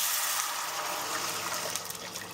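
Water pours into a pan of potatoes for a simple potato curry, a steady close gushing splash that holds for a couple of seconds, then trails off into a few trickles.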